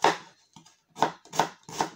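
Onions are chopped with a knife on a board, five crisp knife strikes in an uneven rhythm, close and clear with no talk.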